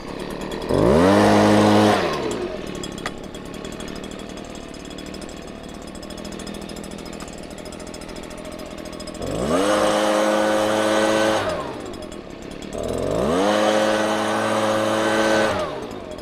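A petrol leaf blower roars in three loud bursts, revving up and winding down between them, with a steady engine drone in the pauses.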